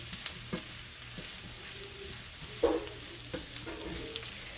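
Food frying in bacon grease crackles steadily in a pan while a utensil stirs it, giving a few scraping knocks over the continuous sizzle, close and fairly quiet.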